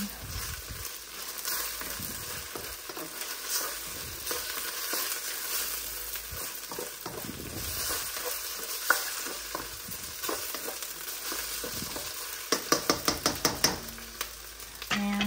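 Singaporean-style chili crab sauce with Alaskan king crab and oyster sauce being stirred in a hot pan, a steady sizzle and frying hiss with scraping strokes of the spoon, close up, ending in a few quick clinks.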